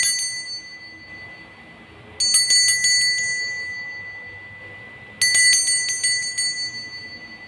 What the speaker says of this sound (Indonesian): Kita akan memulai dengan ditandai lonceng berbunyi.